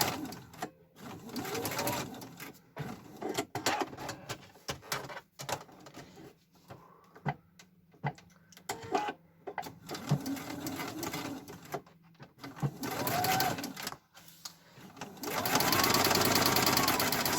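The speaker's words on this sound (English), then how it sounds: "I'm sewing on white thread now because I'm still threaded up from white" A sewing machine stitches fabric with white thread in bursts of rapid mechanical whirring, pausing between runs and ending in a long loud stretch, while a person talks quietly during the gaps.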